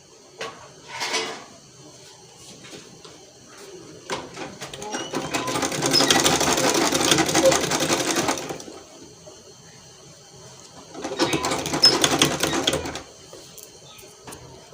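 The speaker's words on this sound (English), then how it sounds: "so I'll just sew it straight to the end" A sewing machine stitches a ruffle sleeve in Ankara fabric with a net lining, running in two steady bursts of rapid mechanical stitching close by, with a brief tap before the first and a voice speaking at times.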